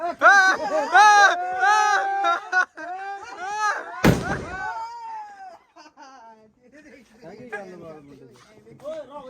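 A single sharp Diwali firecracker bang bursts midway, close and loud, amid a young child's crying and whimpering and other voices talking before and after.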